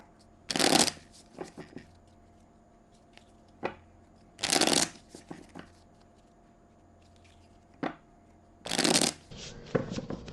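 Tarot cards are riffle-shuffled close up in three quick bursts, separated by quiet stretches with soft taps and card handling.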